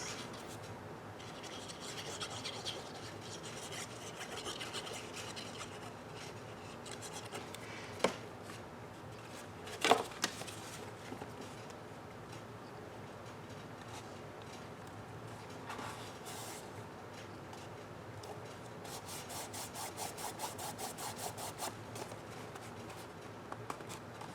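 A folded paper notecard box is burnished, a continuous soft rubbing and scraping close by, steady throughout with a few sharper taps.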